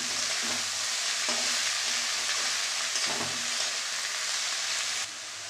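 Red amaranth greens hit hot oil already holding poppy seeds and fried cashews, giving a steady crackling sizzle broken by a few stirring scrapes. The sizzle eases slightly near the end, and no one talks.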